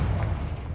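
An explosive blast spell in Hogwarts Legacy: a short, heavy booming detonation with a deep rumble, loud and close, lasting under a second with no talking.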